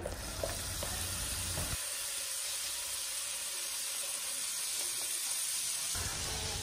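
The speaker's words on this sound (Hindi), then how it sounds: "अब हम एक पैन लेंगे और उसमें 20 ग्राम बटर डालेंगे।" Twenty grams of butter melting and sizzling in a pan on the stove, a soft steady hiss heard close with a few light clinks, no one talking.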